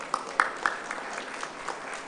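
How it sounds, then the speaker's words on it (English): Audience applause for Bunch members standing at a political rally in Trinidad and Tobago: brief, soft scattered clapping with a few louder claps, fairly distant. "and let's give them a round of applause."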